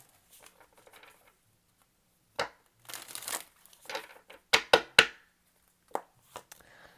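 Tarot cards are shuffled in several separate bursts of crisp riffling and snapping, close and fairly loud, with short quiet gaps between them.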